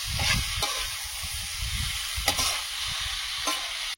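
Meat frying in a pan with salt, turmeric and onion water, a steady close sizzle with repeated stirring scrapes of a spatula throughout.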